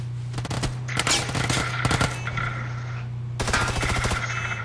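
Video game gunfire in bursts of rapid automatic shots, loud and close, with a steady low hum running underneath and short gaps between volleys.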